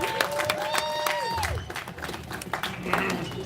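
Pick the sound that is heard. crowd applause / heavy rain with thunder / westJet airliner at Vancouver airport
crowd applause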